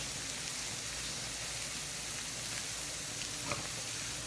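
Red onions frying in a pan for pancit palabok, a steady close sizzle and crackle with a faint tap near the end and no talk.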